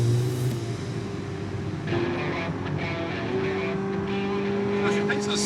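A classic Ferrari on a test drive, its engine holding a steady, smooth drone with gear-change shifts in pitch, close and continuous throughout.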